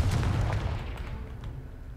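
Confringo explosion spell cast in Hogwarts Legacy, a deep booming blast at the start that rumbles and fades over two seconds.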